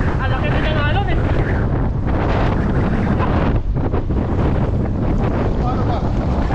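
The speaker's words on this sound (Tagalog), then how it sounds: "Ang laki din yung alon eh!" A boat crashing through big waves in strong wind at sea, with heavy wind buffeting the microphone and rushing water throughout; excited voices shout over the loud, continuous roar.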